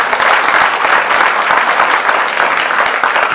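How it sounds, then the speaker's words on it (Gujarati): A large crowd at a Gujarat Foundation Day event claps for a sponsor, loud, dense and steady applause that fills the whole stretch without any talk. "એમના માટે જોરદાર તાળીઓ થઈ જાય."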